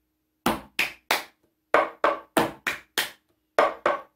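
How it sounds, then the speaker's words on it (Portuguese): Cup percussion pattern of one beat, two hand claps and two taps of a small plastic cup, played as three crisp evenly spaced phrases of sharp close hits with silence between them. "Terceiro ritmo, uma batida, duas palmas e eu vou bater o copinho duas vezes."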